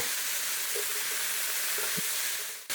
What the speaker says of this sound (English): And now I'm just going to let this sizzle away for a bit.